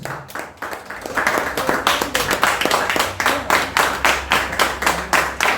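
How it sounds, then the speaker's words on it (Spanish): A church congregation at a Spanish-language prayer service claps in a quick, steady rhythm, many hands beating together close by after a brief ragged start, with a faint low hum underneath. "Denle un fuerte aplauso a la palabra de Dios."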